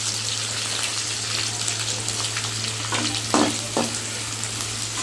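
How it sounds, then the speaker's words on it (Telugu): Green chillies and curry leaves frying in oil in a pan, a loud, steady sizzle close up, broken by a couple of sharp scraping stirs near the end, with no talking. "పచ్చిమిరకాయలు అలానే కరివేపాకు అది కూడా వేసుకొని ఫ్రై చేసుకుందాం"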